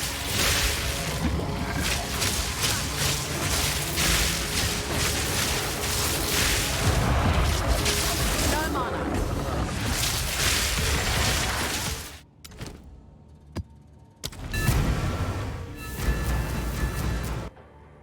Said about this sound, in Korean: 피뢰침을 던지고 거기다가 자성포화를 쓰면은 피뢰침으로 자성포화들이 날아가서 터진다